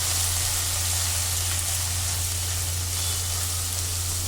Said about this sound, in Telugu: టమాటాలు మెత్తబడే వరకు కూడా వేగనిద్దాము